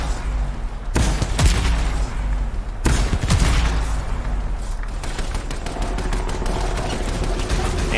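Heavy weapons fire in the video game Anthem as nukes and mortars launch at point-blank range against a Colossus enemy: loud booming blasts at about one and three seconds, then a rapid, rattling burst of repeated shots.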